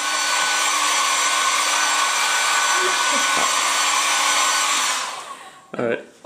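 A small, lightweight hair dryer blows with a loud, constant whooshing roar. It then cuts off, and a person speaks briefly.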